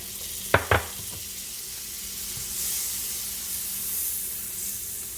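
Butter melts in a pan with a faint, steady sizzle after two quick sharp clicks near the start, the hiss rising gently and holding on its own.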